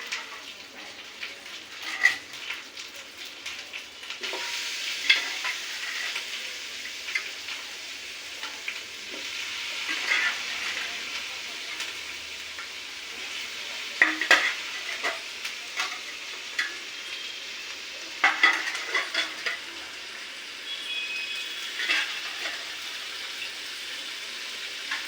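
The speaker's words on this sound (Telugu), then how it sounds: "ఇప్పుడు చికెన్ వేసుకుందాం." Chicken sizzles in a pan over a village-style wood-fired stove, with a steady crackling fry broken by periodic scraping and clattering as it is stirred, close and moderately loud.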